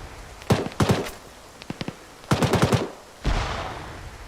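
Gunfire in the military game Arma during a large multiplayer special-forces mission. Several sharp bursts of rapid automatic fire ring out at close range, separated by short pauses, and a heavier blast-like burst comes at the end.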